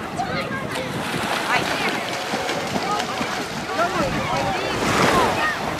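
Sea waves wash onto a beach at a small bay in Ulcinj, Montenegro, a continuous close surf with wind buffeting the microphone and someone talking over it.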